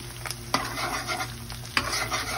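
Scrambled egg and rice stirred in a frying pan for chaw fan, a steady close sizzle with a couple of sharp spatula scrapes against the pan.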